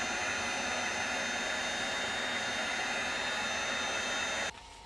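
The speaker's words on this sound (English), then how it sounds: "go ahead and heat set that using my tool" A heat tool blows steadily to set embossing powder for stamping, a loud even hot-air whir that runs for several seconds, then cuts to a quieter hum.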